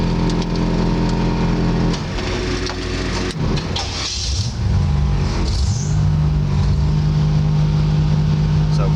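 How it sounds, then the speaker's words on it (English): A 1962 Chevrolet Impala being started: an air compressor runs first, then the starter cranks with a little gas and the engine catches and settles into a loud, steady idle, with someone talking nearby. "second time with a little gas, starts the engine"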